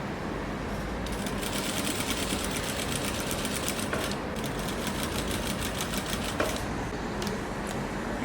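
A sewing machine stitching bias binding onto fabric, a fast, even, close mechanical rattle running continuously with brief slight pauses, no talking.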